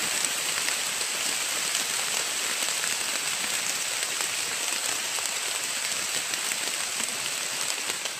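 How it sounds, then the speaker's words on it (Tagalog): Heavy rain pours down steadily among trees, a dense, continuous hiss of drops striking surfaces, loud and even throughout with no talking. "Lakas na yung ulan tol."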